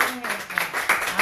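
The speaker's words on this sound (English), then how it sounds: "Give God a hand clap." A congregation claps for God at the close of a Shabbat prayer: brisk, crowded hand clapping heard close, mixed with voices speaking over it.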